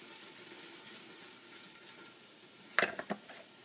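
A soft, steady sizzle of celery sautéing in olive oil for a shrimp bisque, quiet and close, broken near the end by a few sharp knocks of a utensil against the pan.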